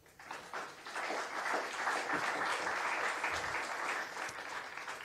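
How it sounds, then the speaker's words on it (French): Audience applause at an award ceremony, clapping that swells in after a quiet start and stays full and steady, fairly distant in the room, with no speech on top. "on peut applaudir Nicolas parce que ça fait un moment qu'il travaille sur ce fameux Scale-up Lab"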